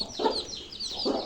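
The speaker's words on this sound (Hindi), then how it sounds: "हमारी लाखी मुर्गी जो है वो मट्टी में खेल रही है" Chickens in a backyard flock cluck close by while hens scratch about in the soil, giving two short, throaty clucks about a second apart over light background noise.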